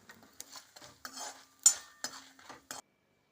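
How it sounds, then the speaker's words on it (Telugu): A hot tempering is stirred into a cucumber chutney, producing a string of short wet scraping and clinking strokes of a spoon in a bowl, close and intermittent, ending in silence. "ఇప్పుడు ఆ పచ్చడిలో కలిపేసుకుంటాను దీన్ని."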